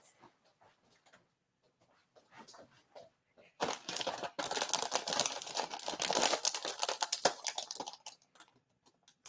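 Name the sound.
cutting wrapping material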